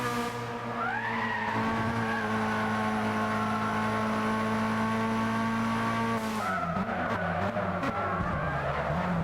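Race cars in a Gran Turismo–style racing game running through a chicane, a steady loud engine drone with tire squeal and a shift in engine note after a light contact between two cars.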